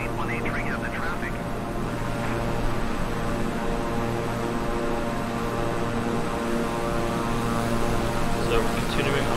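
A Beechcraft 350i King Air twin turboprop climbs toward 15,000 feet in Microsoft Flight Simulator, its engines near their upper limit where they start to overheat. The propeller drone is steady, loud and continuous, with faint voices beneath it.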